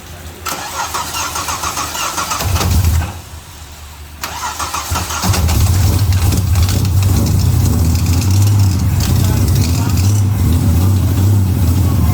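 A car being prepped for Powercruise cranks over, then catches and settles into a loud, steady engine run close up, with people talking around it.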